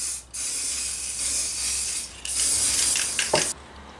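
Spray paint hissing from an aerosol can as a light dust coat goes onto a Tamiya Subaru 2008 WRC TT02 RC car body, close bursts of hiss with short pauses between passes and a faint clink.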